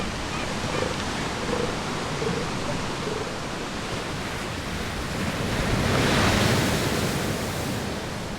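Big ocean waves break on a Macquarie Island beach, a broad continuous roar of surf that swells louder midway, mixed with wind noise and faint animal calls.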